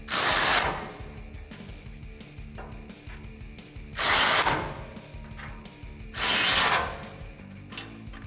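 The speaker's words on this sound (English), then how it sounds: "with an 18mm socket and an 18mm wrench, tighten down the bolts, holding the bracket to the frame" An 18mm socket on a ratchet tightens the bracket bolts of a Body Armor 4x4 Eco-Series steel front bumper on a 2013-2018 RAM 1500. Three close bursts of ratcheting clicks rise over a steady background of low mechanical noise.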